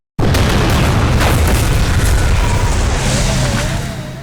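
Loud, sustained explosion from the racing video game Burnout: a heavy booming blast with deep rumbling bass that rolls on for several seconds, then slowly fades, with no voices.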